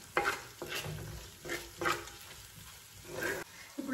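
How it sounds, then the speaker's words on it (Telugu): Homemade ginger garlic paste sizzles in hot oil with cooked onions, and a spoon scrapes and stirs the pan in several separate strokes. The frying noise is steady and close, with no talking. "ఇప్పుడు నేను ఇందులోకి అల్లం వెల్లుల్లి పేస్ట్ వేస్తున్నా"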